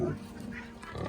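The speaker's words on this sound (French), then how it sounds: "C'est des porcs locaux." Local pigs on a farm in Benin grunt low and close in a short, rough burst, with a louder grunt at the start and end.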